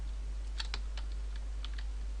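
Code being typed on a computer keyboard for C# game programming, a handful of light, irregular key clicks over a steady low hum, close and fairly quiet.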